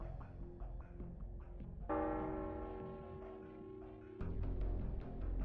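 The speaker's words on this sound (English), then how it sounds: "Clement has rung the bell." A bell tolls in the video game Arknights, its rich ringing tone suddenly rising over a quiet background, sustaining and decaying for a couple of seconds before a second strike lands.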